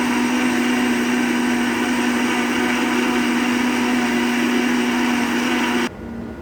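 An electric blender mixing cake batter of water, oil and eggs whirs at a constant high-pitched drone for several seconds, then cuts off abruptly, leaving a faint room tone.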